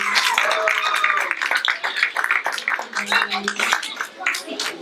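A community audience gives a round of applause for a guest, a crowd of claps, some sharp and close, mixed with voices talking and calling over the clapping.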